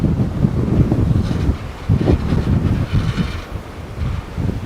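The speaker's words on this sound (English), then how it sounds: "The wind's blowing really bad, guys." Strong gusting wind from a Hurricane Helene feeder band buffets the microphone on the beach at Boynton Beach, a loud, rough roar that surges and dips, with faint surf underneath.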